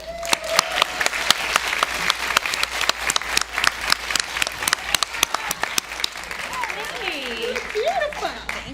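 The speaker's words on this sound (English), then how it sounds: "Please give a warm round of applause to Rose Crichton, Marketing for Community Media." Awards-show audience giving a warm round of applause at the B Free Awards, loud sustained clapping with sharp individual claps standing out, and a voice rising over it near the end.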